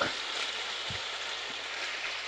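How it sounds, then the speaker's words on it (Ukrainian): Steady close sizzling of chicken frying in a pan, a continuous crackling hiss with a few soft low knocks and no talking. "курка смажиться дуже швидко"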